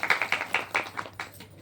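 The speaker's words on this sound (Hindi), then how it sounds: "तो तालियां बजा दीजिए" A small group claps during a Hindu wedding ceremony as a pandit recites the seven vows, a quick run of light, scattered claps that rises briefly and then thins out, fairly faint and close.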